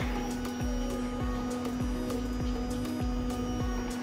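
A DC water pump and air dryer run on a solar-powered multifunction floor cleaning machine, giving a steady motor whine with a regular pulsing click roughly every half second, close and continuous.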